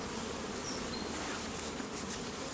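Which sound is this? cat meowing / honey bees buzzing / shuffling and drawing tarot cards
honey bees buzzing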